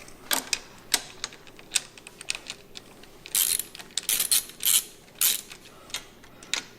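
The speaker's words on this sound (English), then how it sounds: "you need your 17mm socket on an extension" A ratchet with a 17mm socket on an extension loosens a main bolt on a motorcycle during a side guard installation, giving sharp, irregular clicking bursts close up with quiet gaps between them.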